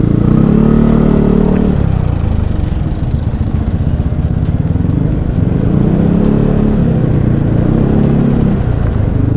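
A bore-up Yamaha NMAX scooter with an aftermarket racing exhaust roars loudly up close, its engine revving in two rising surges separated by a harsher, rattly idle.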